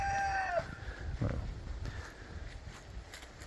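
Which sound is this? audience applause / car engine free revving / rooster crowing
rooster crowing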